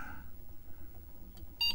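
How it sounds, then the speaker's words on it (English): A short electronic beep from an Apple II computer sounds near the end, sharp and bright, following a low background hum. "you heard it beep boop."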